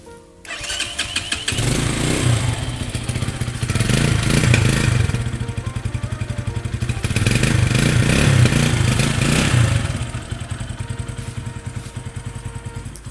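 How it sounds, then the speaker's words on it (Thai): A 2019 Stallion Makina 250 motorcycle starts with a short cranking clatter, then idles steadily and close by with a rhythmic thumping, the revs swelling slightly twice before settling. "เครื่องยนต์ดีนะครับผมไม่มีดังไม่มีควันนะครับ เดินเบานิ่ง ๆ นะฮะ"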